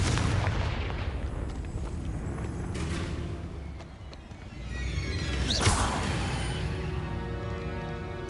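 Confringo blasting spell cast in Hogwarts Legacy, a sharp whooshing burst with a booming impact midway through, set against dense continuous game noise.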